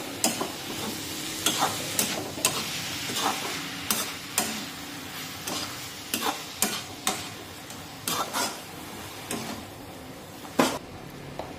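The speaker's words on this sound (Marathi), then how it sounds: "आता सुकट व्यवस्थित मिक्स करून घेऊया फोडणीमध्ये" Dried shrimp (sukat) is stirred into hot, sizzling oil tempering in a pan, with a spoon scraping in a steady series of sharp strokes over a soft, continuous frying hiss.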